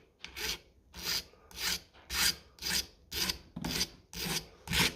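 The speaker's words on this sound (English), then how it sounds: "I can grind a bit on the Dremel and do this fairly quickly" A Dremel grinds on a 1950s Lucas D3A4 distributor part for a Ferguson T20 tractor in nine short, even rasping strokes, close up with no talk.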